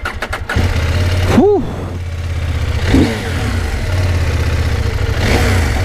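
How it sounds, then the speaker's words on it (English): A CFMOTO 800MT motorcycle starts with a short crank, then settles into a throaty, loud exhaust idle, blipped twice into brief revs that rise and fall. Close and prominent, with a single breathy exclamation from the rider. "It has a very throaty exhaust note, quite a loud"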